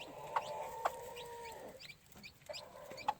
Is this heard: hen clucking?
yes